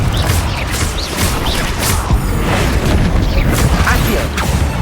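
Repeated blasts and crashing impacts from spellcasting combat in Hogwarts Legacy, including the Confringo fire spell, packed densely with booms and thwacks over game effects, loud and continuous without pause.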